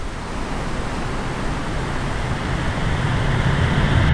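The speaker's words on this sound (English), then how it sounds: "Reaching a waterfall so powerful is quite an adventure for your ears as well." Steady, powerful rush of a waterfall in Norway, a dense continuous roar that stays loud and unbroken throughout.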